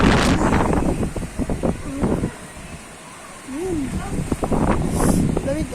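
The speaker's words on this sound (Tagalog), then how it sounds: "Lakas ng hangin na." Gusty wind roars and buffets the microphone in uneven surges, dipping briefly midway before rising again, while people talk over it.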